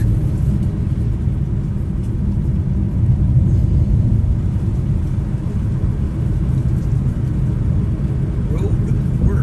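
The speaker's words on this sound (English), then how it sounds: "Truck." A truck driving on a road in Vermont, a loud continuous low engine and road rumble that holds steady throughout, heard from inside the vehicle.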